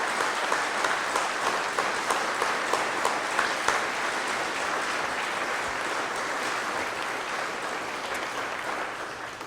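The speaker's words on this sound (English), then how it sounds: "we now ask for a round of applause for our brothers and sisters in their honor" Crowd applause at a fire department ceremony honoring the heroes of 9/11, a sustained round of clapping from a gathered audience, strong at first and gently tapering over nearly ten seconds.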